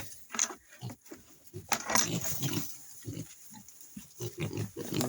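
Pigs grunting and snorting close by, a run of short rough grunts in an uneven rhythm with a few higher squeals mixed in, no talking.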